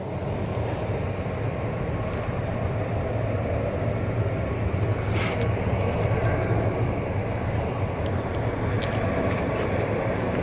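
Swiss Boeing 777 at Zurich Kloten Airport: a continuous low jet rumble and broadband roar, steady and fairly distant, with faint voices in the background.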